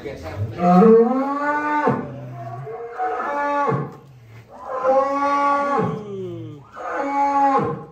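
A giant contest bull outside its pen, warming up before a cattle show in Jakarta, gives several long, loud, deep moos close by, each call rising and falling with short pauses between.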